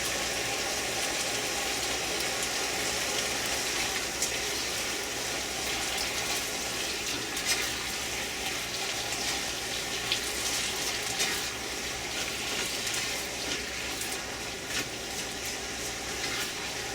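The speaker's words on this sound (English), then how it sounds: "Okay, everything's boiling pretty good." A pot of chicken chop suey with vegetables bubbles and sizzles continuously at close range, a steady hissing, churning boil with no talking.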